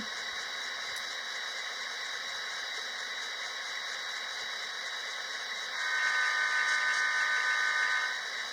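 An N scale Athearn FP45 model diesel locomotive's sound decoder idles with a faint, steady hum and hiss, and a brief brighter tonal burst rises partway through before fading back to the idle.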